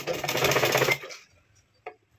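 A sewing machine stitches blouse fabric in a fast, buzzing run of just under a second, then stops, followed by a single soft click.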